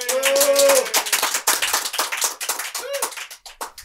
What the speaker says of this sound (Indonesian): Tepuk sekali lagi, tepuk sekali lagi.